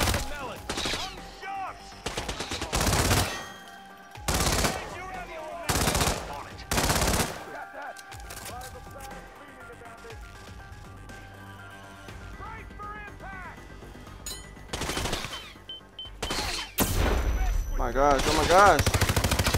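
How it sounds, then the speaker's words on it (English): Gunfire in the stealth game Hitman rings out in loud, sharp bursts separated by short pauses, with a voice exclaiming between volleys. "someone's shooting at me."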